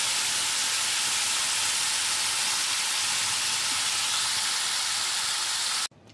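A steady, loud hiss of vegetables frying in a little oil with panch phoron fills the pan for about six seconds, then cuts off abruptly, leaving a quieter tail.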